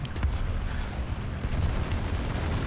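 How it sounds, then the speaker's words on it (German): Guns rattle away in War Thunder as the PLZ-83-130 self-propelled howitzer is tested: a rapid, steady stream of shots at mid distance, with a voice faintly under the firing. "Die schießen einfach nur so."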